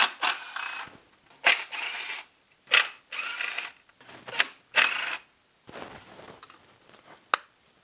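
A hand ratchet works on the 10mm fuel rail bolts of a BMW E46 330i/325i engine. It gives about six close, loud bursts of rapid clicking, each followed by a short pause.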